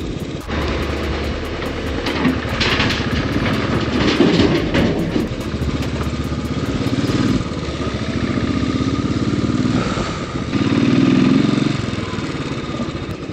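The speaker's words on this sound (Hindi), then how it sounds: "मज़ा आ रहा है बाइक राइड करने में" A motorcycle engine drones steadily and close while riding a dangerous mountain road from Kishtwar to Killar, a continuous rumble with wind noise and no talking.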